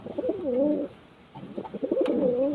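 Pigeons of a single breeding line coo in soft, throaty repeated bursts, close by, with a brief pause in the middle before the cooing resumes.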